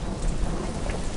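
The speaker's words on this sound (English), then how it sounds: "Rain!" Rain beginning to pour in an animated children's cartoon, a dense, full hiss of falling water with a low rumble like thunder beneath, steady and loud with no talking.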